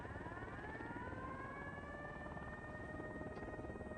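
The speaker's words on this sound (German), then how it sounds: "Jetzt kommen da so viele Hubschrauber" Helicopters approaching in Ghost Recon Wildlands: a steady, distant rotor and engine drone with a rising whine, continuous and fairly faint throughout.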